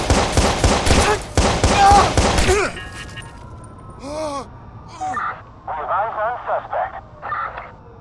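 Dense, loud bursts of rapid gunfire from a video game police standoff fill the first few seconds, then give way to quieter scattered sounds with voices speaking over them.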